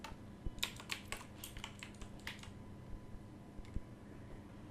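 Quiet, close tapping on a computer keyboard in a short irregular run of keystrokes, followed by a few scattered clicks.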